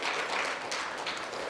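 A church congregation applauds their pastor at a 45th anniversary service, a steady wash of clapping at moderate distance, fairly soft and even throughout with no voices standing out.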